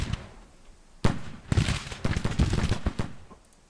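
Musket fire in the Civil War strategy game Grand Tactician, sharp cracks popping irregularly after a quiet start, bunching into a ragged crackling volley.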